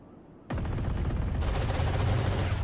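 Odin machine gun spam in Valorant during a pro esports match: after a brief quiet moment, a dense, continuous roar of rapid automatic fire kicks in abruptly and holds loud to the end.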